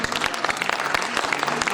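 An audience claps at a classical dance tribute event on stage, making dense, rapid, fairly close applause that holds steady and even throughout.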